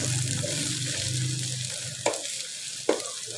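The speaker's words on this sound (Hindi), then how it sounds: "अब ये इसमें ऑयल में ये डाल देंगे हम, इसको फ्राई कर लें।" Kachnar buds frying in oil in a pan over a medium-low flame make a steady, close sizzle, broken by two sharp clinks or stirring knocks near the end.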